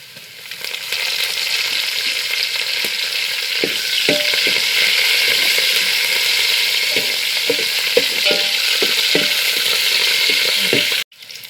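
Curry leaves frying in hot oil for a wild mango pickle: a loud, continuous crackling sizzle that stays close throughout, with light stirring clicks, then a sharp cutoff near the end.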